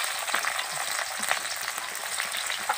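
Onions sizzling and frying in hot oil together with dried red chillies and whole garam masala, a steady bright hiss with a few soft stirring scrapes, close and continuous with no talking.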